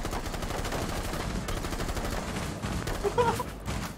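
Sustained rapid automatic gunfire from Rainbow Six Siege rattles on loud and close without a break, a dense stream of shots that ends in a louder burst near the end.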